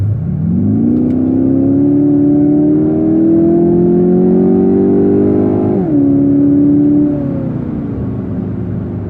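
A close, loud Kia Optima GT 2.0 turbo engine in sport mode climbs in pitch as it accelerates, holds a steady drone, shifts, then tapers off with a low rumble.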